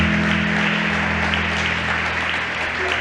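A church congregation applauding during a sermon, a steady wash of clapping at moderate volume over a low, constant hum.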